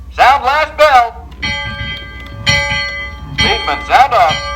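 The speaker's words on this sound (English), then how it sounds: "Sound last bell." Riverboat bell rung as the last bell before departure, a ringing metallic clang with a long sustained tone that hangs under loud shouted voices and chanting, close and prominent.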